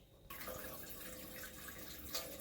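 Water pours from a tap into a cooking pot for Jamaican steamed fish and pumpkin rice, a steady close splashing stream that starts abruptly and runs on with a slight change in pitch.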